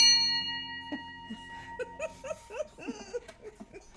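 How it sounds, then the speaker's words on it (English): A ship's bell struck aboard a vessel at sea, a clear ringing tone that opens the clip and fades, followed by a run of short laughing or chuckling bursts. "I had to have a bell for that."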